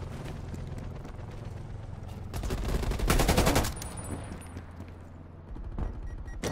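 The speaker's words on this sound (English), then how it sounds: "Dang, getting shot in all directions." Gunfire in Call of Duty Black Ops Cold War multiplayer, with dense overlapping shots and bursts in a steady barrage that swells into a loud peak near the middle, then eases off and returns toward the end.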